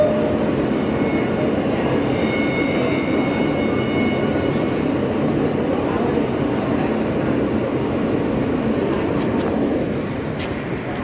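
Interior ride on an Alstom R160A E subway train: a continuous broadband roar of the moving car with faint tonal whines early on, easing slightly near the end, no clear talk.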